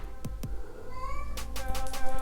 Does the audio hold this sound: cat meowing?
yes